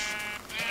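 A Minecraft sheep gives a short, close bleat, a single wavering cry standing alone in the game.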